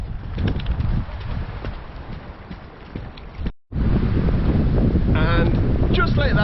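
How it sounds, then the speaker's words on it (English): Strong gusts buffet the microphone on a countryside footpath, a heavy rumbling roar that briefly cuts out, then returns as a person speaks over it. "And just like that, it's got very windy."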